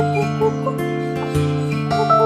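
Chickens, not a local native breed, cluck in short repeated bursts close by, a steady chorus of low throaty calls over a few seconds.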